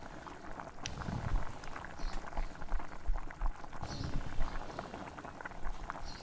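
Fried meat being stirred into a spice paste with green chilies in a pan, a steady close bubbling and sizzling with scraping and clattering of the spoon throughout.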